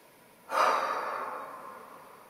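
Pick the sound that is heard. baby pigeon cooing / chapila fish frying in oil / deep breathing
deep breathing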